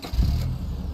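A car engine in the game State of Decay 2 hums loud and steady for a brief moment, a low rumbling drone with a slight rise at the start and no voices.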